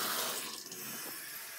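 Water runs from a bathroom tap into a sink in a steady, soft, close splashing hiss with no voices.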